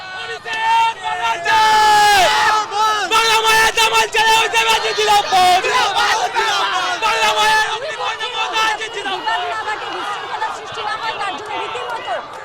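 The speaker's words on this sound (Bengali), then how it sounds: "স্লোগান পাল্টা স্লোগান চলছে" Rival TMC and BJP supporters at Hazra during the 2026 West Bengal election trade loud slogans and counter-slogans, with a dense crowd of raised, overlapping voices chanting and shouting close by.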